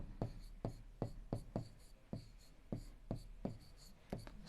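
Chalk or marker strokes on a board during a Class 7 maths lesson, a rhythmic series of short, sharp taps and scrapes, roughly a dozen in a few seconds, fairly quiet with no talk.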